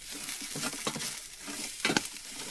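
Mushrooms and onions fry in a pan at a winter backpacking camp in Arizona, stirred with soft scraping strokes over a steady sizzle, ending in a brief louder burst of scraping.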